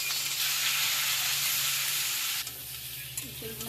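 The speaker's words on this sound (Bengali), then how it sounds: "আবার ইঁচড়গুলো আমি সিদ্ধ করে ইঁচড়গুলো ভেজছি" Boiled jackfruit pieces fry in hot oil with a loud, steady sizzle that drops a little about two-thirds through, followed by brief stirring clatter.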